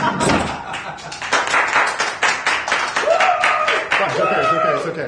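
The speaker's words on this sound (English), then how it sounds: "A bit more applause." A small group claps and applauds in a van during a live stream, with bursts of clapping and thumps under loud, lively talk and laughter.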